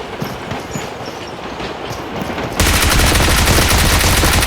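Train rushing past in the mobile battle-royale game PUBG Mobile: a dense, loud clattering roar that jumps sharply in volume partway through and stays steady to the end, with rapid rhythmic clacking and no talking.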